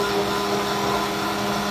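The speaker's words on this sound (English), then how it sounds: "So what the stick blender does is speeds up the process of thickening back up." A stick blender whirs steadily through warm homemade body wash containing shea butter, a loud, constant motorized drone with no breaks.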